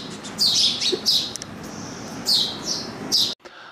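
Sparrow chicks chirp in short bright bursts, several rapid tweets clustered in a few groups over a steady background hiss, close and fairly loud, with no voices.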